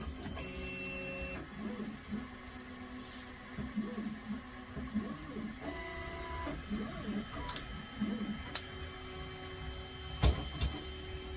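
Artillery Sidewinder X3 Pro 3D printer moving its head to the bed corners, with stepper motors whining in short tonal bursts and pulses, pausing between moves, plus an occasional click, close and moderately quiet with no talk.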